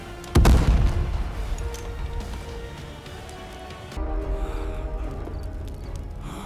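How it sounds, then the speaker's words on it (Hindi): A single loud cannon blast booms close by, then a low rumbling roar lingers and swells again as distant bombardment continues. "बाहर से तोपें गरजती हैं"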